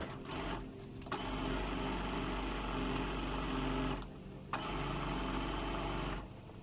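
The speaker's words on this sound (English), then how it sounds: "we're going to sew them together" A sewing machine stitches plush fabric pieces together with a quarter-inch seam for an Appa plush, giving a steady mechanical whir in long runs broken by brief pauses, close and fairly quiet, with no talking.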